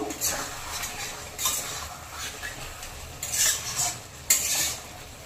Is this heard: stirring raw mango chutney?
yes